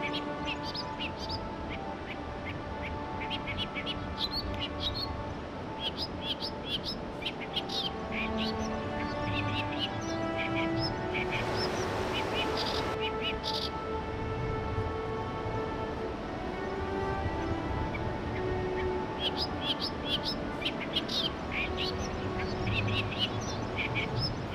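Ducks quacking and other birds chirping and calling in Egyptian wildlife, a busy mix of overlapping calls throughout, with faint music or voice underneath.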